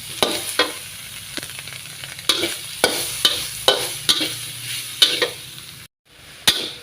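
Beef and chili are stir-fried in a hot pan for a Thai beef curry, giving a steady sizzle broken by regular scraping stirs about every half second, close and fairly loud, with no talking.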